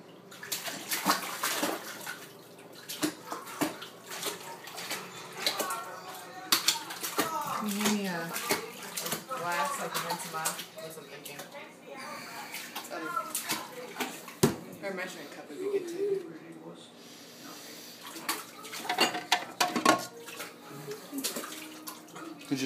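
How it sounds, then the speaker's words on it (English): A baby splashes in bath water during his first bath, with soft, irregular sloshing and dripping close by, under the voices of adults and someone talking. "He just dunked himself in the water."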